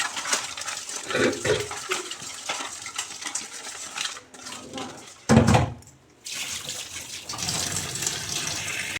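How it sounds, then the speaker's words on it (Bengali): Fish are rinsed by hand under a running kitchen tap, with splashing water and wet handling noises that pause and resume, broken by a brief near-silent gap. "দেখো মাছগুলো আমার পরিষ্কার করে ধুয়ে নিয়েছি"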